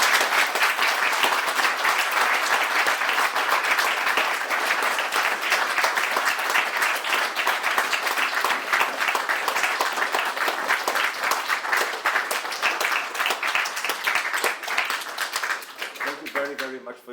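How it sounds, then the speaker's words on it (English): An audience applauds after a university lecture on political authority and conscience, a dense, sustained clapping that holds steady for about fifteen seconds before tapering off at the end. "I think Bishop Schneider deserves a big round of applause."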